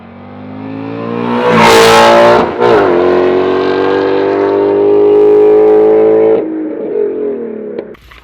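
Loud, close V8 exhaust of a Ford Shelby GT350 with resonator delete and X-pipe, revving hard and accelerating through a gear, rising in pitch, a brief drop at the shift, then a long pull before easing off.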